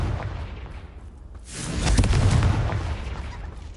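In the Hogwarts Legacy video game, a Confringo blasting spell goes off as a broad, rumbling explosion that swells after a short lull and then slowly fades, loud and fairly near, with no talk over it.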